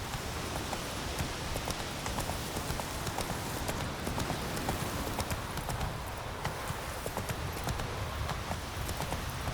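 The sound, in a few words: horse Roach galloping in video game The Witcher 3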